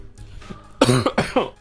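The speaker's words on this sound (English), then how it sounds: "That coughing fit came out of nowhere." Harsh coughing fit after inhaling coffee, a few hacking coughs in close succession, loud and close to the microphone.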